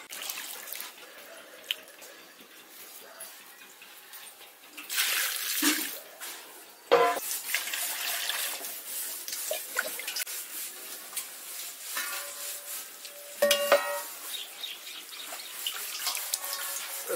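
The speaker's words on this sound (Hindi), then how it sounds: "इसको एक दो पानी और धो देंगे।" Onions are washed under running water in a vessel in a home kitchen, with a steady tap stream splashing and trickling, broken by louder pours and sloshing bursts as water is emptied and refilled.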